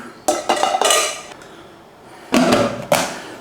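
A heavy tuna pasta bake is set into an oven with several clattering knocks of dish against rack, then a pause and more clunks, close and fairly loud, with no talking.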